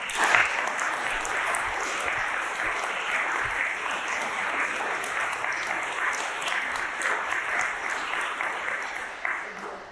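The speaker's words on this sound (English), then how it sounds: "Can we give a big round of applause?" A college panel night audience claps in sustained, dense applause for about ten seconds, steady and fairly loud, tapering slightly at the end.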